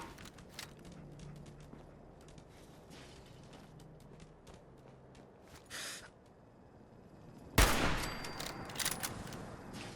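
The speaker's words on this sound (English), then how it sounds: "Yes, that was a gunshot for sure." A sharp, loud gunshot cracks out near the end in Fallout 4, after scattered faint pops and ticks against a quiet, low ambient hum.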